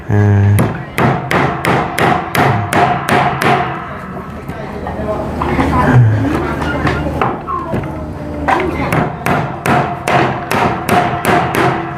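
Hammer blows land in steady, loud, regular strikes, pausing briefly in the middle before the pounding resumes, with some background voices and movement between hits.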